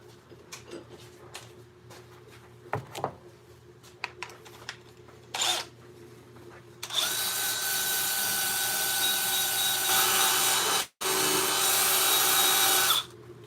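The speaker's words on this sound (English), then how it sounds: "So I'm going to sand this up just a little bit." A wooden bowl spinning on a woodturning lathe, first a quiet motor hum with scattered knocks and brief bursts, then a loud, steady, harsh rushing of sandpaper against the wood for several seconds, cut by a short pause before resuming.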